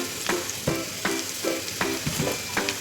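Ginger garlic paste stirred into frying onions for paneer tikka masala, with a spoon scraping the pan in about eight steady strokes over a continuous close sizzle.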